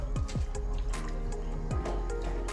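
Clean water pours and trickles into a fish pond, with close dripping and splashing and a few quick gurgling plops over a steady flow.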